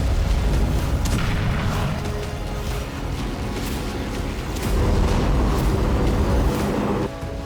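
Deep, rumbling booms from explosions at oil refineries in Astrakhan roll on continuously, dense and heavy low-end noise with no speech.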